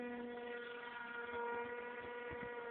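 The electric motor of a Beta 1400 RC model plane drones at a steady pitch, faint and distant against the open air, with no voices.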